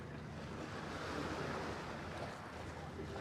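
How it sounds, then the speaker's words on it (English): Waves breaking on the sand at a Sydney dock on an evening shore, a steady, soft wash of surf with light wind noise and no talk. "just to hear the waves breaking on the sand down here"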